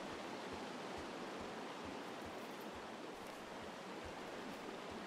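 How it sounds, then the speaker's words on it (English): A small waterfall in the video game Firewatch gives off a steady, even rush of falling water. It is faint and continuous, with no voices over it. "There's a nice little waterfall."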